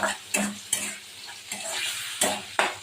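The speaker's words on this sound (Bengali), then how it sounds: "এটা ভাজা হলে তারপরে ওই ডাল মাছের মাথাগুলো ভেজে দিয়ে দেবো" Food frying in a pan with a soft sizzle, punctuated by several sharp scraping clinks of a utensil stirring, close and fairly quiet.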